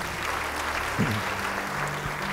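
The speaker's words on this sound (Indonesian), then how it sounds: "beri tepuk tangan bagi dia" Church congregation applause during a sermon, a dense, steady wash of clapping heard as continuous hiss, with a short low tonal sound in the middle.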